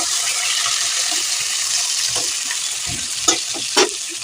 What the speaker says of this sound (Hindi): इन्हें भी हम हल्का सा भून लेंगे बीफ के साथ में।